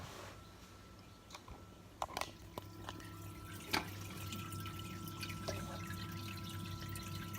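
Water from an aquarium overflow pipe trickles into filter floss in a sump beneath the tank, a quiet steady flow with scattered small drips and a few light clicks.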